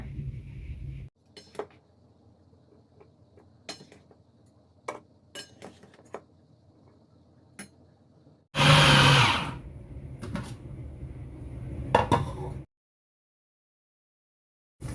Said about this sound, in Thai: ไปปั่นให้ละเอียดเลยนะคะ